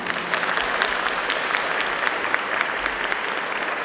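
Audience applause at a carol concert held in an old mine venue, a dense, steady round of clapping from a large crowd sustained at an even level for nearly four seconds.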